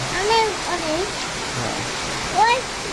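Heavy rain pours steadily outside a balcony, a dense, continuous hiss that fills the scene, with voices talking over it now and then.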